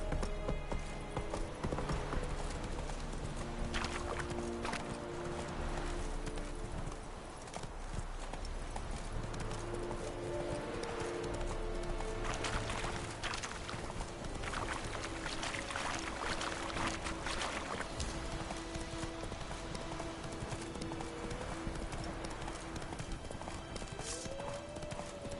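Roach the horse galloping in The Witcher 3, with rapid, steady clip-clop hooves that continue throughout, plus occasional clanks and a brief voice over loud game ambience.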